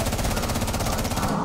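Rapid automatic gunfire in a video game, a loud dense burst of closely spaced shots sustained for over a second before cutting off.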